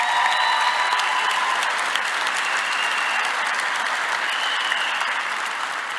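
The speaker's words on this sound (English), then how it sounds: "Please give him a round of applause." Graduation audience at a medical school declaration ceremony breaking into long, dense applause that stays strong and even throughout, with a few cheers and whistles riding over the clapping.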